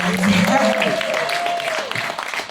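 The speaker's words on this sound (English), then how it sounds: "Give yourself a round of applause." A crowd applauding at a live awards ceremony, a brief wash of clapping with a prominent voice calling out over it for a couple of seconds.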